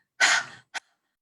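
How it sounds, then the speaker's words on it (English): A person panting with the tongue out like a dog during a forgiveness meditation: one long breathy exhale followed by a short sharp puff, close and clear, with no talking. "stick your tongue out and breathe like you're panting like a dog"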